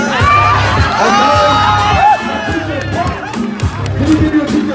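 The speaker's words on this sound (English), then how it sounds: "So give him a round of applause." A packed crowd at a ballroom voguing event cheers, whoops and applauds loudly, a roaring wall of shouting and clapping with bursts of excited yelling rising and falling close by.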